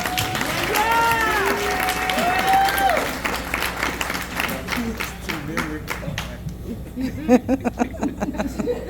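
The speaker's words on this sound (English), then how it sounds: "Y'all clap it up, show some love for Shawn." An audience at a spoken-word poetry performance claps and cheers loudly over whoops and voices, the applause thinning into scattered individual claps toward the end.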